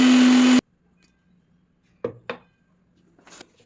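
Mixer grinder jar packed full with egg shells, a short loud whirring burst that cuts off abruptly, followed by a few sharp clinks and rattles of the jar in a quiet room.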